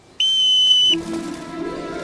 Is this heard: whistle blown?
yes